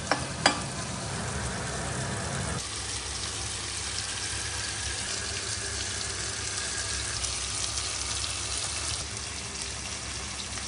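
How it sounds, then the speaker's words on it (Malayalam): Fish pieces fry in a pan in a Kerala home kitchen, giving a steady, broadband sizzle and crackle that runs unbroken throughout, with a couple of brief knocks near the start. "ഈ ഒരു മീൻ പീസും കൂടെ നന്നായിട്ട് ഫ്രൈ ആകാൻ വേണ്ടിയിട്ട് തിരിച്ചിട്ടിട്ടുണ്ട്"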